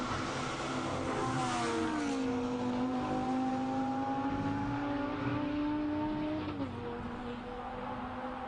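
A Lamborghini Super Trofeo V10 race car screams up a hillclimb course, its engine note climbing and holding a high, steady pitch, then dipping with a gear change near the end; loud and close, no speech.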